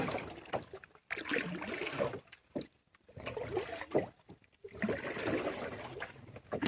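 A kayak paddling a slow loop around a cold spring in Florida, with water splashes and paddle strokes in uneven bursts, brief pauses between them, close by with some wind.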